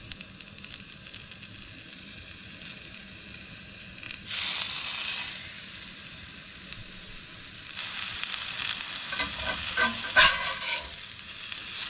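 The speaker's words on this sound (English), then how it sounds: "And then it is literally 60 seconds of searing on each side, and the tuna is done." Tuna steaks sear in a very hot pan with a steady close sizzle that swells into louder hissing bursts, probably as the fish is moved or flipped, and there is no talking.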